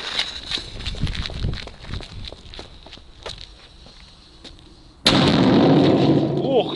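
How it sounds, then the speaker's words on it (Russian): A powerful firecracker with an electronic player taped to it blows up outdoors: a sudden loud blast midway, followed by a sustained roaring rumble, after several seconds of scattered crunching footsteps and handling noises. "Ну вот мы подружили плеер с этой петардой с помощью скотча. И сейчас поджигаем фитиль."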